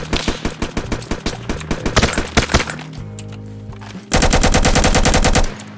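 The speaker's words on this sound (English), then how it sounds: "These guys will have a gun and they will shoot you." AI soldiers in the ACS 1.7.6 video game combat mod fire guns in rapid bursts of sharp shots, then a short lull, then a dense, loud sustained volley of automatic fire.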